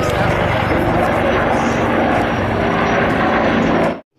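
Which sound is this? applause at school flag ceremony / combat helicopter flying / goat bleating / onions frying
combat helicopter flying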